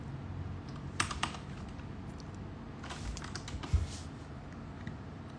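Rapid light tapping on a keyboard or phone screen, irregular clusters of soft clicks close by over a low background hum, with no speech.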